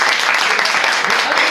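Clapping from the audience for contestant Kyūkyū at an ōgiri comedy final, a brief, continuous burst of many hands applauding loudly and evenly from start to finish.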